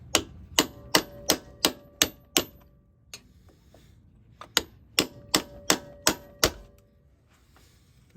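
An axle is knocked out of an Opel Astra MK4 (G) during a clutch job: two runs of sharp, evenly spaced metallic hammer blows, about seven each, ringing close up with a short pause between.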